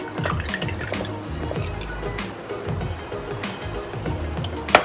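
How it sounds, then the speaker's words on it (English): Homemade lavender kombucha poured from a bottle into a glass, a steady gurgling trickle with small splashes and drips for several seconds, close, ending with a sharp clink. "So I'm going to pour it in."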